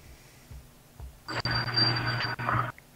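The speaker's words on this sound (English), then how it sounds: "now there's a ringing in the background" A steady electronic ringing tone rises in the background of a Dota 2 match, sustained for over a second with two brief breaks, fairly loud against quiet game ambience.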